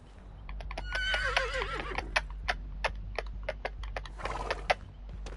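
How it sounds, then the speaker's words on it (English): A horse neighs in the video game Dead by Daylight, a wavering whinny near the start, followed by a run of sharp keyboard clicks and taps. "We got the friendly horse."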